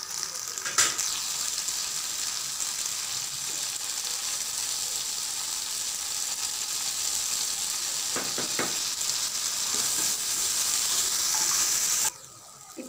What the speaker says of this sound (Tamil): நல்லா இந்த பூண்டு வெங்காயமும் சாட்டே பாருங்க